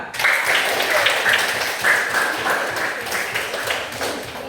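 Students in a classroom clap for their groups after a scoring activity, a steady wash of many hands lasting several seconds, fairly close and continuous, with faint voices mixed in.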